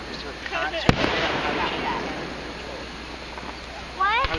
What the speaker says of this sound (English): What if the fireworks shoot inside?